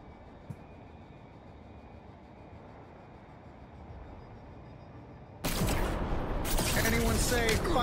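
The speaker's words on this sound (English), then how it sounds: "Rockets fire!" Rocket barrage fired in the video game Marvel Rivals during armor overdrive: a sudden loud, dense burst of blasts and whooshing explosions erupts after quiet game ambience and continues for several seconds.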